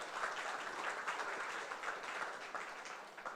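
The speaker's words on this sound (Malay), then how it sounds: "satu tepukan untuk Founders Executive Diamond Haji Abdullah dan Hajah Mariam binti Omar." Audience at a business event claps for the founders, a steady, moderately distant wave of applause lasting the full moment without talk.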